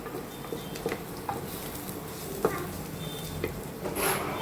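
Onion and garlic frying in a pan: a soft, continuous sizzle with occasional light clicks and scrapes of stirring, moderately quiet and close.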